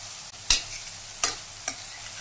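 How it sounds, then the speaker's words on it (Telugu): A spoon stirs chopped tomatoes, tamarind and garlic cooking in a pan for Andhra tomato chutney. Three short scraping strokes can be heard over a quiet, low sizzle. "మధ్య మధ్యలో అడుగంటకుండా కొంచెం కలుపుకుంటూ ఉండాలి."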